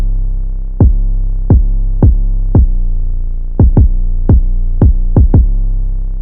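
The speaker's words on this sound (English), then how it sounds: "And then I layered the 808 pattern with a kick." Trap 808 bass pattern layered with a punchy kick drum, built in FL Studio for a melodic beat: nine booming hits in an uneven, syncopated rhythm, loud and close, with long sustained sub-bass tails between strikes.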